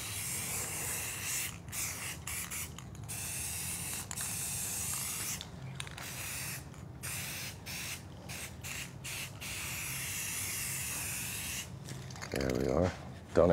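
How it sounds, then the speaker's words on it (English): Mirror-effect aerosol spray paint hisses in a long steady spray broken by short pauses, close to the can, with a brief rustle at the end. "So I took some mirror effect spray here for spraying a mirror"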